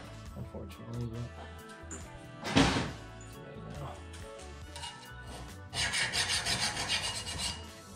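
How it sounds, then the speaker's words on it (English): Steel frame-notch support plate for a traditional Ford hot rod worked with a hand file along its edge, heard as close, loud rhythmic rasping strokes in the last few seconds, after an earlier single sharp knock and quieter handling noise. "I'm still gonna have to hit it with a file"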